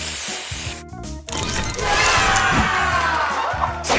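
Spray booster effect from the Match Masters puzzle game: a loud, bright hissing and sizzling burst with chimes and layered game sounds, sweeping across several seconds over steady background game music.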